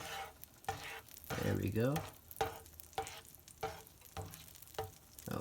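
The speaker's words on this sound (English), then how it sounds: "once the butter is fully melted, you're going to want to move it around just a little bit more" Melted butter sizzles in a pan as it is stirred, with soft scraping strokes repeating every half second or so and a brief stronger sizzle burst, while a voice speaks briefly.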